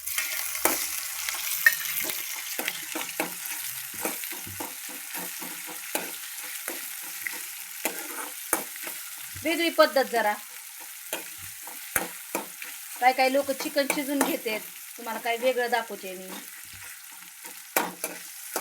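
Chopped onion and tomato frying in hot oil for a chicken curry, a steady close sizzle with stirring scrapes and clinks of a spoon, while someone talks over it in several short stretches.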